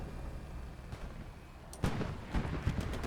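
Anti-tank round slamming into a Sherman tank in the Hell Let Loose battlefield game, heard as a low rumbling backdrop that gives way to a sudden heavy impact near the end, followed by a couple of sharp bursts.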